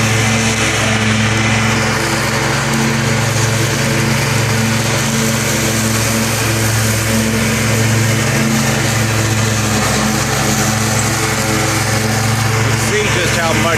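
A city crew's brush mower cuts through seven-foot-tall grass in East Dayton, its engine droning steadily and close for the whole stretch with a constant low hum and a busy chopping texture, a voice speaking over it.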